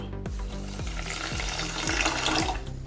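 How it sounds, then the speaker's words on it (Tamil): Water poured from a cup onto sugar in a pan to make syrup for badusha, a steady splashing pour with gurgling that runs close and loud throughout. "சேர்த்துட்டு 1/2 கப்பு தண்ணி சேர்த்துக்கலாம்"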